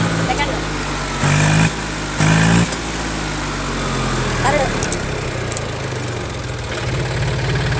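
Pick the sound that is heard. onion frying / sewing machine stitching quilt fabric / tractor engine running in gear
tractor engine running in gear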